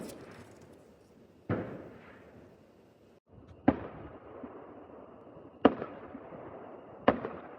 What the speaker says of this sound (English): So that's my neighbors sliding off their second round of fireworks.